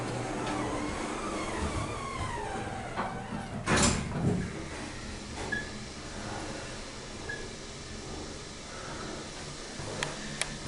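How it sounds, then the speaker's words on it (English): An old, run-down Otis hydraulic glass elevator in a Pennsylvania mall, its door operating: a near, faint mechanical sliding and rattling with a brief louder clunk midway, then a few light knocks over a quiet background hum. "Door does not close when we push the button."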